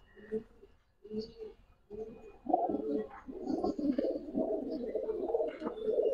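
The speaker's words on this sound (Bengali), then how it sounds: "এটা হলো মাদি কবুতর" Giribaz pigeons, including a female, give repeated low, throaty coos up close, with short coos at first and then a fuller, more continuous cooing.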